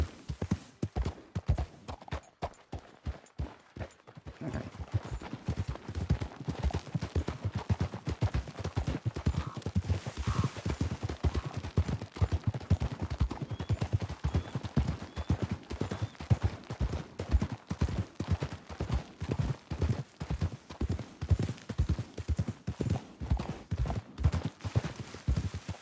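Horse galloping in the Red Dead Redemption 2 video game, a long run of rapid rhythmic hoofbeats, close and steady, that starts brisk and settles into a continuous driving gallop with no talk over it.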